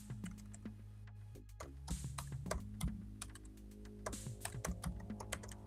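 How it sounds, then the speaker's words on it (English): Computer keyboard typing during a live browser-based coding session, a run of quick, close key clicks over a steady low hum, with no talking. "I was typing too fast"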